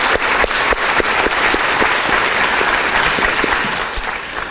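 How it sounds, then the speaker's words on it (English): An audience at a school resiliency awards ceremony claps for the award recipients in a loud, full round of applause that stays dense and even before easing slightly at the end, with no voices over it. "can we get one more big round of applause for all of our recipients?"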